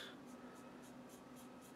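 An angled size 6 brush works over a charcoal drawing, giving faint, soft, evenly spaced strokes, about six of them in a steady rhythm, with no talking.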